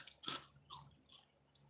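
Someone bites and chews a crispy homemade rice kurkure snack, with one sharp crunch followed by a few softer chewing crackles, close and quiet.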